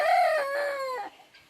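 A big rooster crows once, close and clear, in a farm paddock among several other roosters and hens, the call rising and then trailing off.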